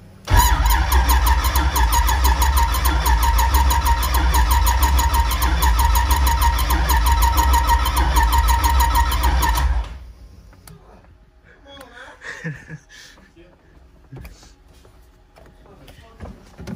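An LS-swapped Nissan 350Z cranks without firing: a loud, steady mechanical whir with a rhythmic pulse runs for about ten seconds, then cuts off, leaving a quiet shop with faint scattered clicks and rustles.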